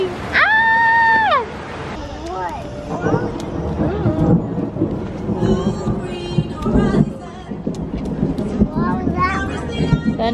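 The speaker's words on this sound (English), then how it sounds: "Thunder." Deep rumbles of thunder roll beneath a noisy crowd in the rain at SeaWorld's Shamu show, with a high-pitched shriek at the start and chatter continuing throughout.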